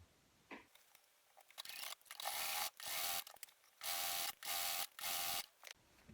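A sewing machine stitches the last seam of a quilt top in several short, loud bursts with brief quiet pauses between them, heard up close.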